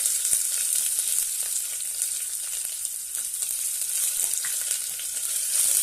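Chopped onion sizzling in hot oil for veg pulao, a steady, dense crackling hiss that stays close and loud throughout with a few sharper pops and no voices.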